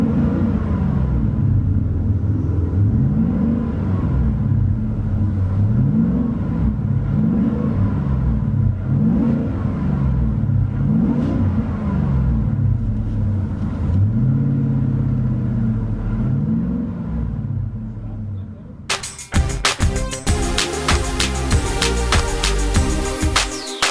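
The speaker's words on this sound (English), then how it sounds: "Interior tone level is mild to moderate with this Flowmaster Super 50 true dual" A supercharged 2019 Ford F-150 with a Flowmaster Super 50 true dual exhaust rumbles deeply through repeated rev cycles, rising and falling in a steady rhythm, then music cuts in near the end.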